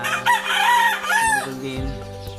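A hen makes a quick run of clucking calls, near and loud, with bright warbling tones overlapping for about two seconds before a low thump and fading background.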